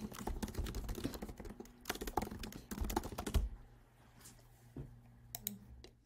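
Fast typing on a computer keyboard makes dense, close clicking for about three seconds, then thins to a few scattered key taps in a quiet room.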